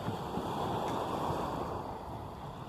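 Sea waves wash steadily onto a pebbly shore in Batumi, a continuous, fairly loud rushing surf with a little wind, with no voices.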